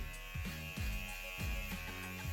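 Electric hair clippers with a 1.5 millimeter guard buzz steadily through a self-cut, close and fairly quiet, the motor tone dipping in short repeated strokes as the blade passes through hair.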